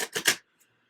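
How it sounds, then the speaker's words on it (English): A deck of tarot cards is shuffled in three quick riffling bursts, close and crisp, followed by a brief silence and a faint tap. "one more shuffle for you fixed signs"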